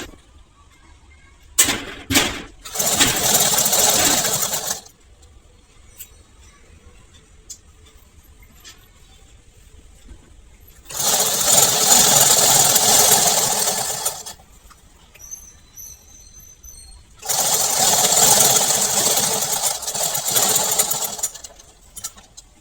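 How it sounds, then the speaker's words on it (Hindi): Domestic sewing machine stitching elastic onto a small baby kaftan, running in three loud sustained bursts separated by quiet pauses, close by with no talk. "तो दोनों साइड हम इसी तरह हम स्टिच करेंगे"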